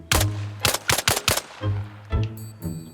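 Rapid gunfire from the military video game Arma Reforger: a burst of loud, close shots in quick succession, a short pause, then a few more heavy reports trailing off with echo.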